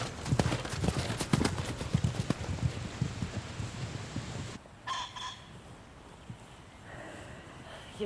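Hooves of a ridden horse clip-clop in a quick, close rhythm for several seconds, then fade as a rooster crows and chickens cluck in the background on a farm.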